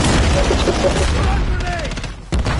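A Semtex grenade goes off in a shooter video game, a loud broadband blast with rapid gunfire-like crackle and a sharp second burst near the end, heard amid game noise.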